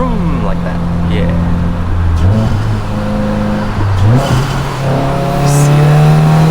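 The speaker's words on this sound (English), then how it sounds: "Clutch in, gear, vroom, like that" A 2023 Subaru WRX Limited with a manual gearbox blips its engine during rev-matched downshifts, the revs rising and falling in quick surges over a steady idle drone, repeated twice, with a voice talking over the engine.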